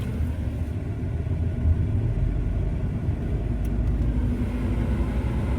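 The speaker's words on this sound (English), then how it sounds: "me revving the engine up" Truck engine revving steadily in a workshop while a warm A/C fault is diagnosed, a deep continuous rumble holding at a fairly even level with no voices.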